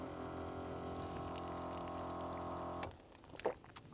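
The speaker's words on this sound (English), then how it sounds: "This is the water tap." Water runs from a tap at a four-wheel-drive camp setup, a steady close flow that stops near the end and leaves a few drips.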